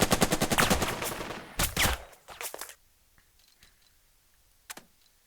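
Machine gun squad firing in the Burden of Command video game: a dense rapid burst of gunfire for about two and a half seconds, then a few shorter volleys, fading to quiet with one faint distant shot near the end.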